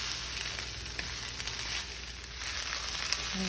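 Chicken fried rice with mixed vegetables stirred in a hot pan, giving a constant soft sizzle and frying hiss with faint scraping of the utensil, steady throughout and without talk.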